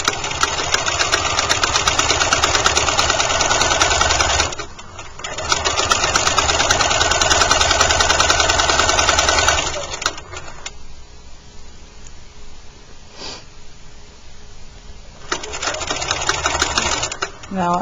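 A sewing machine stitches through the thick seam of a bag, running loud and close in two long rattling bursts with a brief pause between, then slows to a quieter, slower stitch before speeding up again. Someone talks over it.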